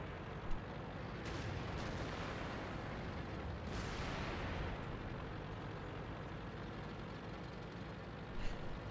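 Artillery fire in the tank game World of Tanks sounds as heavy distant booms over a constant roar of engine and battle noise, with two stronger blasts standing out and no talk.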